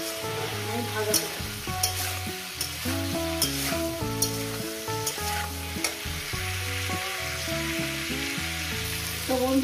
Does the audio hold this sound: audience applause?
no